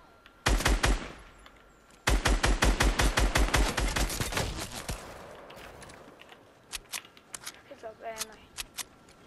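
Rapid bursts of gunfire in the video game Fortnite, two sustained strings of sharp shots followed by scattered fainter reports, with players talking over the action.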